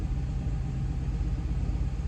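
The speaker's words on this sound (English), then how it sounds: "the car is running again" 2013 Chevy Caprice PPV police car engine running again after its fuel pump is restored, a steady low rumbling idle, close and continuous with slight pulsing throughout.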